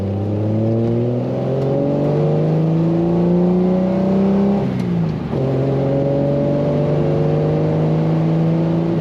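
A 1973 Triumph TR6 convertible with a 4-speed manual runs steadily close by, its engine a deep, even drone that briefly dips and blips near the middle before settling back into a smooth, strong idle.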